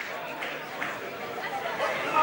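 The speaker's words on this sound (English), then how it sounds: "The crowd's starting to fill up" Murmuring crowd chatter fills a kickboxing fight-night venue, a continuous indistinct babble of many voices at moderate level with occasional louder bursts, no single speaker standing out.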